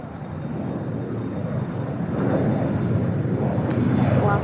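An airliner rolls for takeoff on runway 25 right at LAX, a steady broadband engine roar that swells slightly louder partway through, heard from a distance with no voices.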